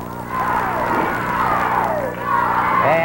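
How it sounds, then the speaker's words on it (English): A wrestling arena crowd chants in a loud, sustained, rhythmic roar, voices rising and falling together and filling the hall throughout. "you can hear quite a chant by the crowd"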